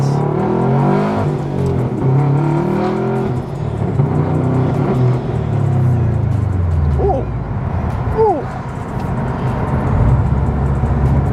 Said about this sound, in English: So we're gonna give the car a little bit of beans here.